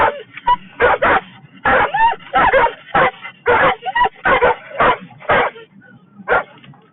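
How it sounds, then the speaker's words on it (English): Giant schnauzers bark loudly over and over in a steady series of deep, sharp barks, close by, with short gaps between them. "they're a bit of a barking type of dog. I have giant schnauzers"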